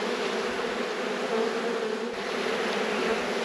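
Honey bees fill an opened, smoked hive during an inspection with a dense, steady buzzing drone, continuous and close, with no voices.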